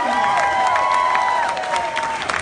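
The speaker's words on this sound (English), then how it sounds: "why don't we give a big round of applause to all our dancers tonight? Put your hands together." A crowd at a dance competition show applauds and cheers, clapping under sustained whoops and tonal shouts that rise and fall, moderately loud and continuous.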